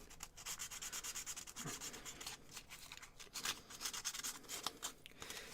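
Wooden model parts sanded by hand to make clipping tabs slightly smaller, a close, steady rhythm of rasping strokes repeated many times.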